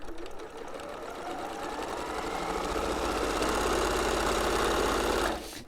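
A sewing machine runs steadily for about five seconds, stitching quilt fabric pieces from a Liberty summer bundle into pairs, with a loud, continuous motor whir and needle chatter that stops abruptly near the end.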